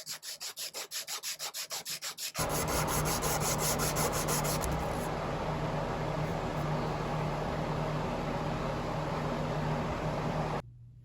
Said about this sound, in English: take some sandpaper. This is 120 grit, and what I'm gonna do is just work it up and down like this